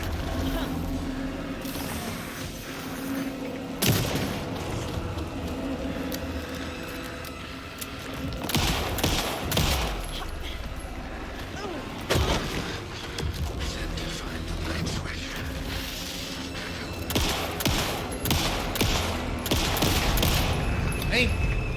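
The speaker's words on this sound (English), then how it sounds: "reload the gun" Gunfire in the horror video game Alan Wake II: sharp shots and bursts with mechanical clicks and creaks over a busy game soundscape, while a person talks at times.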